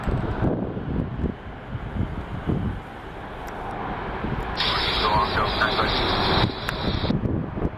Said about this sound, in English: Up next, we will be getting the Hawaiian after the Alaska 737-800 departs.